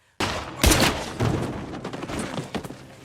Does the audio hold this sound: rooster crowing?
no